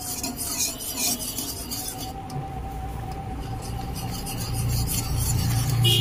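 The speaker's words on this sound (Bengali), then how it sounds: "এখানে আমি অল্প অল্প করে দেব আর একটি হ্যান্ড উইচ দিয়ে খুব সুন্দর" A hand whisk stirs dry rice flour, added a little at a time, in a bowl for palm-fruit pitha, making a steady close scraping rasp that continues throughout with no talking.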